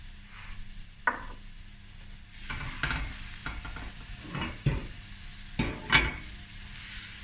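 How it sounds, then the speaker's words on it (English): Onions and garlic sizzle in a pan over moderately low heat, a steady soft hiss broken by several scraping, clattering strokes as the mix is stirred, with no talking. "Let the onions cook through and your garlic."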